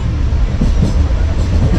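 A train at a railway station, heard as a steady low rumble of rolling rail cars that stays close and continuous, with faint voices murmuring underneath.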